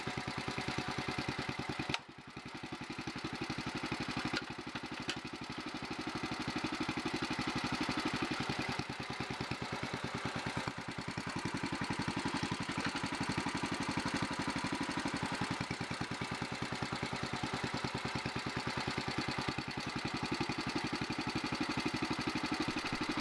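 A 1961 Bolens Ride-a-matic garden tractor's small engine runs steadily while the machine moves, a loud, continuous close-up drone with a brief dip near the start and no talk over it.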